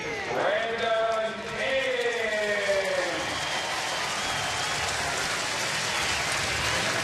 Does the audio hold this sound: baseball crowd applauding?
yes